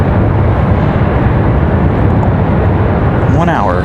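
Airbus A220-300 airliner on Moxie flight 745 from Portland, Maine, at Raleigh-Durham International Airport, giving a loud, steady jet roar throughout, with a brief voice near the end.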